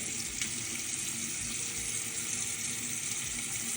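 Water runs steadily from a tap while metal items such as eyelash curlers are washed, a constant moderate hiss with no talk.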